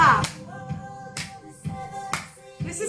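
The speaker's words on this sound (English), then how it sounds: "If in doubt, just smile and clap" Audience clapping along to a cappella singing of 1980s songs at a singalong, a few sparse, uneven claps with some hand taps, close and fairly clear over quiet sung tones.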